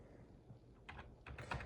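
Quick, light clicks of fingers typing on a computer keyboard on a Windows PC: a brief burst of a few keystrokes, close and fairly quiet.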